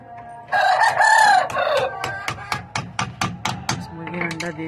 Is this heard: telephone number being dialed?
no